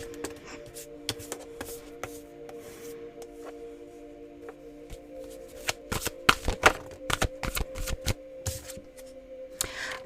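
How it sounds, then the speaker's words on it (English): Tarot cards riffled and shuffled by hand, crisp flapping bursts growing busier and louder toward the end, close and alone over a faint background hum. "They just said for me to throw cards"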